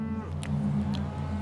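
A cow on an Australian dairy farm gives a single deep, drawn-out moo, close and clear against faint outdoor background sound.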